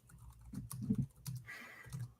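Fingers type on a computer keyboard in short, irregular bursts of faint clicks and taps, heard quietly with no voices.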